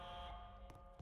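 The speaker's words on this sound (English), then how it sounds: "this one actually has an alarm if you click it" A panic-bar door alarm in an office-building video game gives off a faint, steady electronic buzzing tone for about a second.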